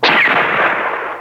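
A single loud synthesizer gunshot sound effect with a sharp attack, followed by a noisy decaying tail that fades over about a second.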